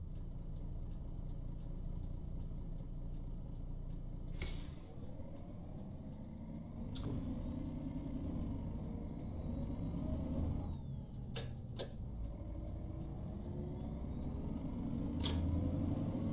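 A bus in a driving simulation game runs with a new ZF gearbox, a steady low engine rumble and drone with rising and falling gear tones, occasional sharp hissing bursts and clicks, heard alone without talk.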